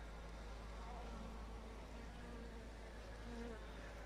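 Steady, faint buzzing of Caucasian honeybees droning continuously, with a low hum underneath and no talking.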